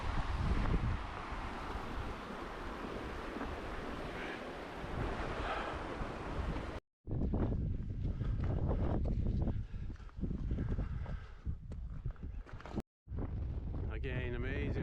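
Strong wind on a hill path along the West Highland Way in Scotland roars and buffets the microphone in heavy, rumbling gusts, cutting out briefly twice.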